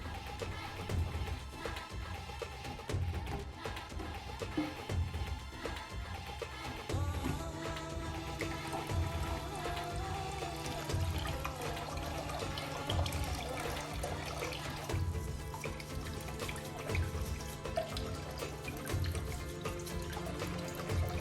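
A 3.5-gallon automotive parts washer pumps plain water through its brush nozzle, a steady trickling and splashing flow with a low pump hum and occasional small clatters, continuing without pause.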